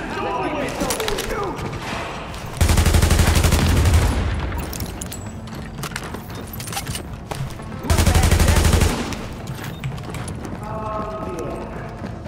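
Gunfire in The Division on Hard difficulty at the Lincoln Tunnel Checkpoint: two loud dense bursts of rapid shots, each lasting about a second and a half, rising over continuous game noise while someone talks through the clip.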